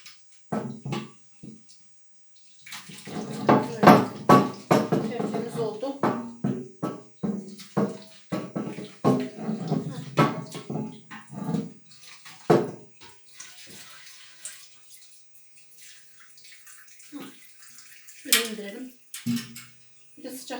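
Water splashes and runs in bursts while a limescaled kettle is rinsed and wiped in a home kitchen, with close clattering and someone talking intermittently over the washing sounds.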